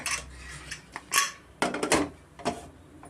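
A pressure cooker lid being closed in a home kitchen while mixed pulses cook: a few sharp metallic clanks and clicks in uneven bursts, close by, with no talking.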